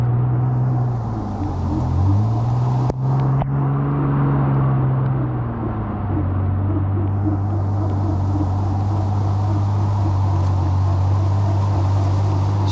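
Ford Explorer stuck in forest mud, slowly hauling itself out with a winch: a loud, steady engine drone and whirring motor pitch that dips and rises early, then holds level throughout, close by with no talk.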